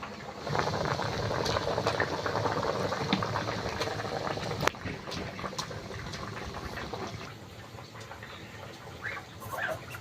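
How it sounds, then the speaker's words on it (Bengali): Fish and fried brinjal curry bubbling vigorously in a pot, a dense continuous simmer of popping bubbles and spatters, close and steady throughout. "তরকারি ফুটে উঠেছে"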